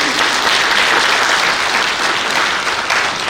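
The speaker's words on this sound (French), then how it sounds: "Applaudissements pour vous." Dense, sustained applause from senators and guests in a Senate chamber at a session closing, loud and even throughout with no break.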